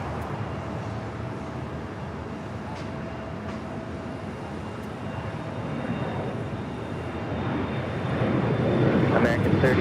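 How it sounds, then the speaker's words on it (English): An American Airlines Boeing 787-8 Dreamliner arriving at LAX makes a broad, distant jet roar that swells steadily louder toward the end, with a faint tonal whine running through it. "American Dreamliner, 787-8 Dreamliner, coming from Miami, Florida"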